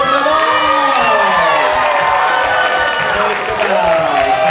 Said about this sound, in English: clap for the cast of The Wizard of Oz!